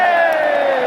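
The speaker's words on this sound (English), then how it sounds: "Big cheer for Steve." A stadium crowd at the Etihad cheers for Steve, a loud, sustained roar with whoops and shouting that holds steady throughout and carries no clear speech.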